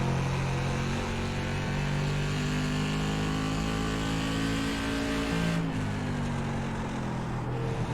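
A race car engine in a racing video game drones steadily on throttle at the Stafford circuit, its sustained revving hum shifting in pitch partway through as it accelerates.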